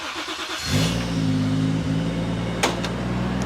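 A Toyota JZX100 engine starts cold and settles into a steady, rough idle, close and loud, with a brief click partway through.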